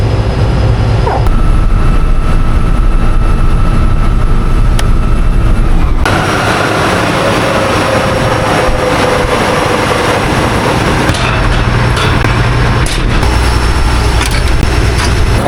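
A John Deere 9770 combine harvester engine runs steadily nearby, a loud continuous low drone with mechanical rumble that shifts in tone partway through, with no talk over it.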